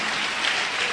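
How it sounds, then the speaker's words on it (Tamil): An audience at a night prayer service claps hands, a dense, even burst of applause filling the whole moment. "கைத்தட்டிங்க பார்க்கலாம்."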